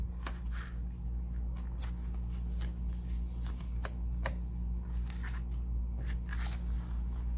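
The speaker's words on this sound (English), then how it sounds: "I will kind of get up under the paper, very carefully pull this away" Cardstock being slowly pulled off a Cricut cutting mat with a small plastic dollar-store scraper, giving soft crackling peels and a few sharper ticks over a steady low hum.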